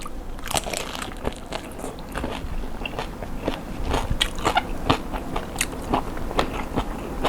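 Crispy, fatty roast suckling pig is bitten and chewed up close, giving a steady series of sharp, crackling crunches for several seconds with no talking.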